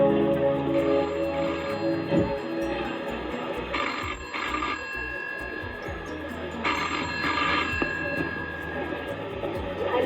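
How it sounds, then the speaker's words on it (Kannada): A telephone rings on an outgoing call, two bursts of ringback tone spaced a few seconds apart, heard over a noisy background. "ಯಾವ್ದಕ್ಕೂ ಒಂದ್ ಫೋನ್ ಮಾಡ್ತೀನಿ"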